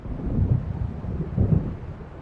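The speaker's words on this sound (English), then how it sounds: "It seems there's a storm coming." Low rumbling thunder and gusting wind of a storm in the video game Alan Wake Remastered, a steady dark roar with two swelling rolls.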